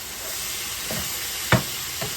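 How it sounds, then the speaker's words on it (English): Cooked tortellini is stirred in a pan over a constant frying hiss, with a few soft scrapes and one sharper clack of the utensil. "So we're just going to give this a quick stir."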